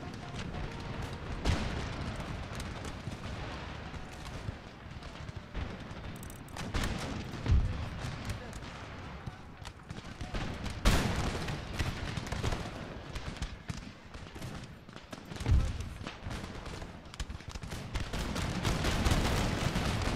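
Musket volleys in a large Empire Total War: Darthmod battle, dense rolling gunfire and booming reports layered over each other continuously, loud and chaotic, with someone talking over the top.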